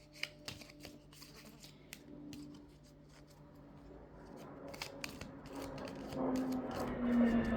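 Oracle cards being shuffled during a love-themed oracle reading, a steady run of soft papery riffling and flicking that builds a little louder toward the end, with no one speaking.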